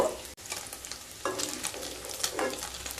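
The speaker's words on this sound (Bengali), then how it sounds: "পনিরগুলোকে হালকা ভেজে নেব।" Paneer cubes lightly frying in a pan, a steady soft sizzle with a few scraping stirs; no one speaks.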